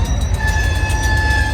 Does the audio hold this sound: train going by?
yes